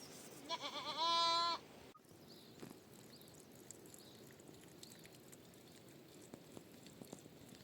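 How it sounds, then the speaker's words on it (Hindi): A single loud bleat from a sheep or goat grazing on a Himalayan hillside pasture rings out briefly near the start, followed by quiet open-air ambience with faint scattered rustles. "तो जो ये हमारी भेड़ बकरियां हैं"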